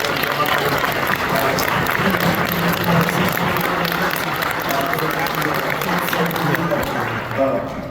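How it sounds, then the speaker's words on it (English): Applause from a breakfast event audience for the Erie Philharmonic Junior Phil Quartet, a steady dense clapping that fills the whole stretch with a faint murmur of voices mixed in. "give a round of applause for the Erie Philharmonic Junior Phil Quartet"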